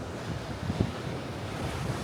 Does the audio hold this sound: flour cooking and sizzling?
no